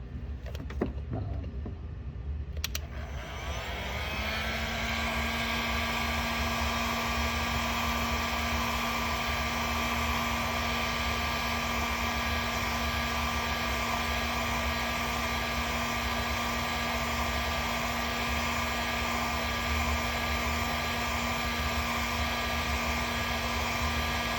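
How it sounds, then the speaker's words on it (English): A heat gun on a low setting blows over labels on a bamboo fly rod, starting after a short click and settling into a steady whirring hum with a constant tone that runs unbroken to the end. "Now we're going to take a heat gun and dry it off."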